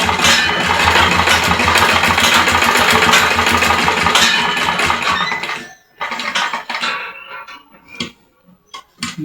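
A sewing machine stitching a shirt collar whirs in a loud continuous run for several seconds, then stops and restarts in short bursts with brief pauses between them.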